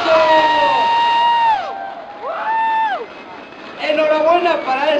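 A crowd at a Mexican esports league event cheers with rising and falling whoops and shouts, loud and close, in a few bursts of voices that swell again toward the end.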